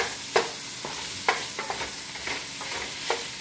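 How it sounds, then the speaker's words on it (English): Meat browning in a pan over medium-high heat for a spaghetti sauce, a steady sizzle and fry hiss running throughout with sharp scraping clicks of a stirring utensil at irregular intervals, close and alone without talk. "I should brown the meat pretty good"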